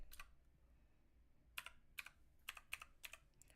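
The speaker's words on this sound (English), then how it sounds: "it's supposed to be a mixture of like the old school type of typewriters, but in a keyboard form" A loud mechanical keyboard built to feel like an old typewriter, typed in irregular clacking keystrokes, a brief pair at first, then a quicker run of sharp clicks, close and alone.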